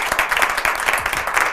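Studio audience at a French-language TV music show applauding in a quick, uneven patter of claps, close and fairly loud, lasting only a moment.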